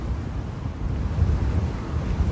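Ocean waves and wind roar together as a dense, steady rushing wash with low buffeting wind against the microphone, continuous and fairly loud with no voices.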